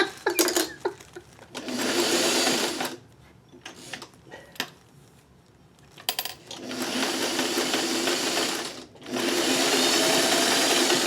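A sewing machine stitches a quilt crumb block in loud, steady runs of whirring, pausing briefly between bursts, with clicks and small handling noises in the gaps and no talk.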